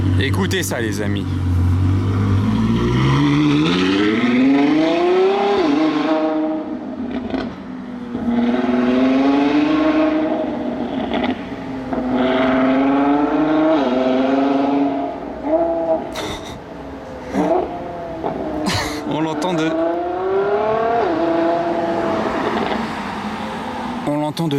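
Mansory-tuned supercar at Top Marques Monaco, its engine revving up and down in repeated rising and falling sweeps, loud and sustained, with a few sharp pops near the end.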